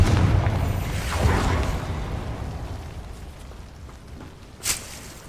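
A Confringo fire spell in Hogwarts Legacy bursts with a loud booming explosion that rolls off into a fading rumble, then a short sharp pop near the end, without any talk.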